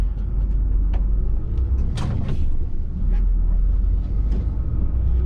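An empty Volvo B12 coach cruising on a New Zealand road back to the depot, with a loud, steady low engine drone and road rumble from inside the cab, plus occasional rattles and creaks and no voices.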